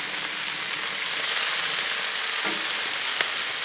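Bacon sizzling on a Blackstone griddle just after being flipped: a steady, close, even crackling hiss throughout with a couple of brief sharper pops, no talking.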